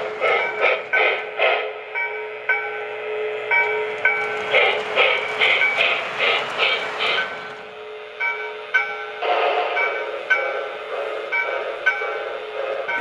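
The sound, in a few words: model 080 steam locomotive running with chuff sounds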